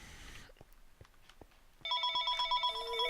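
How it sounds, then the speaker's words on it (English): A phone suddenly starts ringing with a loud, repeating electronic tone that cuts in after a stretch of quiet clicks and taps, near and unaccompanied by talk. "Oh, noisy phone."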